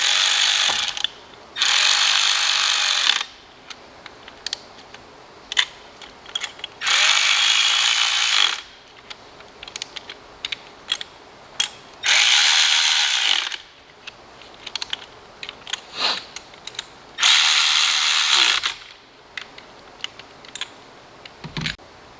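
Ratchet tightening spark plugs on a VW Golf R engine: bursts of rapid clicking pawl rattle, each lasting a second or two, repeat at intervals with quieter handling clicks and taps between, close and loud.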